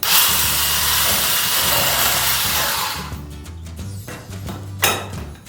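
An electric mixer whisks banana and cocoa cake batter with baking powder and vanilla, a loud steady whirring hum for about three seconds before it cuts off, leaving quieter clinks and handling noises.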